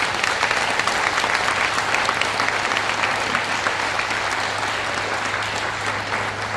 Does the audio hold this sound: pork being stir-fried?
no